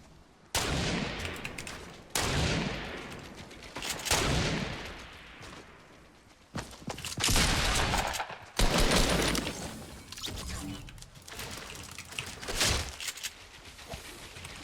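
Fortnite video game gunfire cracks and echoes at a distance in repeated volleys, a fairly faint, continuous exchange of shots.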